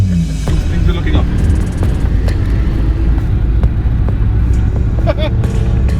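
A Lada car drives through a Polish city, its engine a loud, close, steady low rumble with road noise and occasional clicks, someone talking over it.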